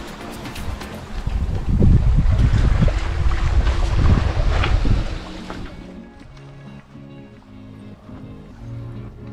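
Sailboat under way at sea, bound for Chagos: loud gusting wind buffets the microphone over rushing water for several seconds, then eases to a quieter hiss with faint tonal sounds.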